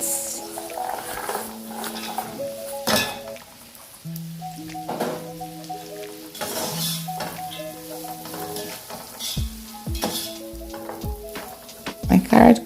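Carrots stir-fry in a pan for fried rice, giving a close, continuous sizzle punctuated by scraping and tapping as a utensil moves them around, with faint tonal background sounds underneath.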